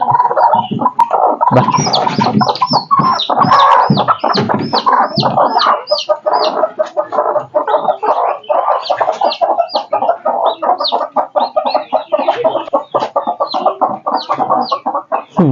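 A native country chicken (nattu kozhi) clucks repeatedly up close, rapid rhythmic clucks and squawks running continuously without anyone speaking.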